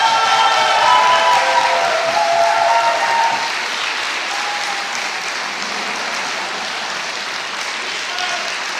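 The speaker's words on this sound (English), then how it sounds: "Give him another round of applause, please." Sustained applause from an awards-ceremony audience honoring the bronze-place winner, dense and steady with a few faint cheers, loudest at first and easing slightly after a few seconds.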